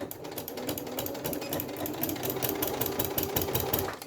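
Sewing machine stitching bulky PU faux leather strap with the presser foot lifted high, a steady fast rattling chatter of needle strokes running close and continuous, no talk over it.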